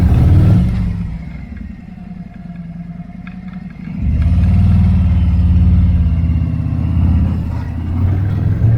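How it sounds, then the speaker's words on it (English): A Harley-Davidson motorcycle with a Feuling vented oil cap fitted, its engine rumbling loud and close, then revving up and pulling away with a deep, steady throaty roar. "Oh man, does she sound good. Boy, listen to that Harley."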